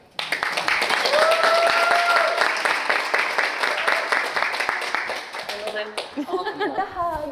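An audience bursts into brisk, close applause that swells quickly and holds for several seconds before tapering into scattered claps, with a voice and light chuckles coming through near the end.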